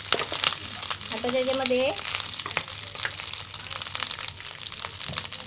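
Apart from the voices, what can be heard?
curry leaves sizzling as added to hot oil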